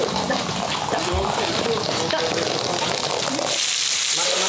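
Water from a hose gushes and splashes steadily over a swollen bull's body during water therapy on a farm, a loud, close, continuous rush that grows brighter near the end.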